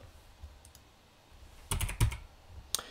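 Keys on a computer keyboard are tapped in a short burst of several quick clicks, then one more click after a pause, close and fairly quiet against low room noise.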